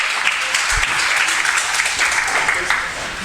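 Wrestling crowd at a live main event cheering and applauding in a steady, dense roar of clapping and shouts, loud and continuous throughout.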